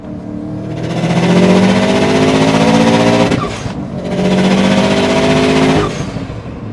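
Turbocharged engine of a 2026 Subaru GD STi revving hard and loud up close, two long sustained pulls with a brief drop between them and no talking.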